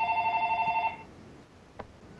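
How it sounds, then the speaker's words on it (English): A home phone rings with a warbling electronic trill for about one second, then cuts off, followed by a single faint click in a quiet room. "That was my home phone."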